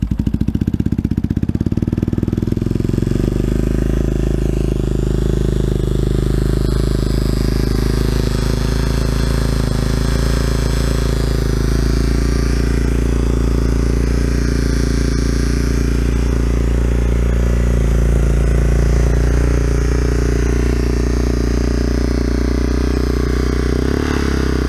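A 2001 Yamaha Warrior 350 ATV, started cold on choke, cranks briefly and catches, then settles into a loud, steady, close-up idle with an even thumping rumble that continues to the end.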